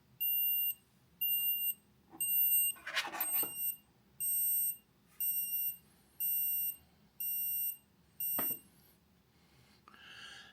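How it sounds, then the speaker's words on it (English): A faint, high-pitched electronic beep repeats in a steady pattern of about nine short pulses, with a few soft handling clicks in between. "this is one of the quietest Bluetooth trackers out there on the market"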